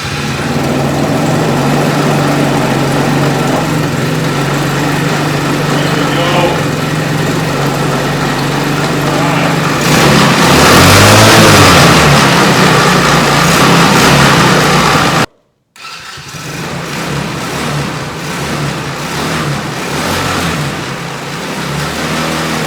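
A small engine that had sat unused for two years runs loudly and close by after being started, a steady buzzing drone that swells briefly, cuts out for a moment, then resumes running.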